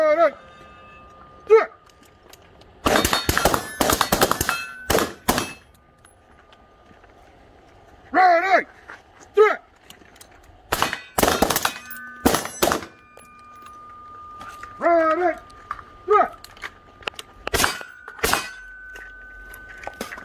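Gunfire from two shooters at a white target at the 20 yard line, 55 grain FMJ rounds, loud sharp cracks in scattered bursts and single shots, with a man giving commands between them.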